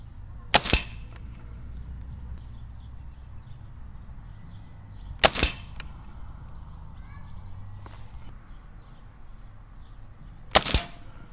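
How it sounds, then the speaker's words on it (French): A Crosman MTR77NP air rifle fires three separate sharp cracks several seconds apart during target shooting at 25 metres, each a short close snap over quiet outdoor background. "je vous mets les phases de tir"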